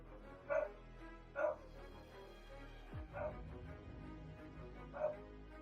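A dog gives several sharp barks and yips at a distance, spaced irregularly over a steady background with faint whimpering between them.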